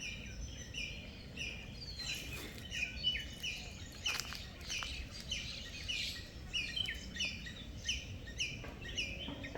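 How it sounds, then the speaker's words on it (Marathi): Many birds chirp and tweet in quick, high repeated notes in the countryside of Ratnagiri, some close and some farther off, continuing throughout over faint background noise. "ते मस्त पक्ष्यांचा आवाज येतो आहे"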